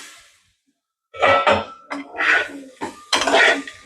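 A utensil scrapes and clatters against a pan while bitter gourd curry is stirred, with several loud, close metallic scraping strokes after a brief quiet start, and no voices.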